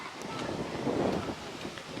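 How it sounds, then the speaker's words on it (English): Wind gusting steadily outdoors in overcast weather at Cheddar Gorge, Somerset, a broad continuous rush that swells briefly in the middle, with no one speaking. "Little bit windy, very overcast"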